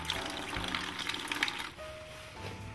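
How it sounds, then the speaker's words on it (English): Water draining from the boiler of an 1896 steam motorcycle, a close, steady gush and splatter of liquid that eases into a thinner trickle toward the end. "I'm just draining some out of the boiler, because it siphoned into the boiler."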